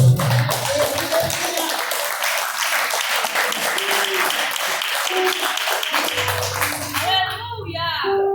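Loud, sustained applause from a church congregation, dense clapping filling the room with cheering voices mixed in.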